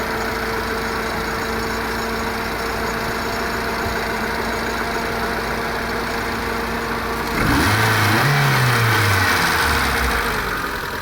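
A Hyundai Santro engine idling with a steady, droning hum from nearby, then a brief rise and fall in pitch as the revs lift and settle back during an idle RPM fault check.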